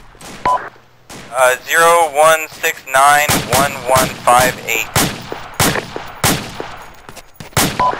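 Repeated gunfire cracks out in a combat setting, a string of sharp, loud shots at irregular intervals, some close together in quick bursts, while someone speaks over the radio early on.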